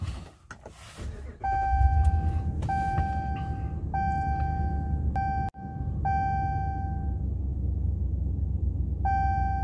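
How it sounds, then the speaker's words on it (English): Chime from a fourth-generation Ram 1500 dashboard warning that the license plate light is out after CAN bus LEDs were fitted: a series of clear, evenly pitched beeps repeating at irregular intervals over a low idling rumble. "There's the notification that the license plate light is out."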